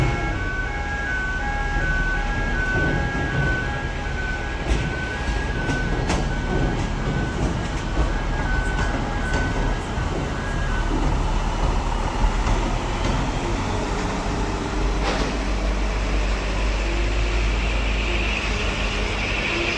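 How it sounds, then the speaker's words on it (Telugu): Train running along the railway track above an underpass bridge in Anantapur, a steady loud rumble and rattle of wheels on rails throughout, with a horn-like tonal sound early on and no talking. "ఇలా అండి డైలీ ట్రైన్ మొత్తం డైలీ చక్రాలు కొడుతుంది అనమాట"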